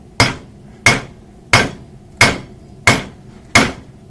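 Six heavy hammer blows land at an even, steady pace on a hot railroad spike, each a sharp ringing clang that fades quickly, close and loud.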